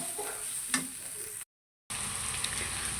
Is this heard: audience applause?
no